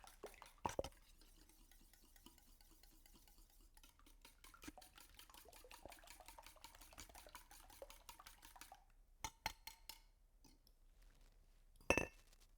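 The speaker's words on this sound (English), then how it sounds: "Whisk that all together." A whisk rapidly clinks against a bowl while mixing milk, canola oil and vanilla for muffin batter, a faint fast ticking rhythm with a few louder taps near the end.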